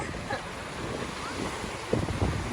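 Rushing sea water flowing fast off the coast of Portugal, a dense continuous wash of surf mixed with wind buffeting the microphone, with a brief faint voice.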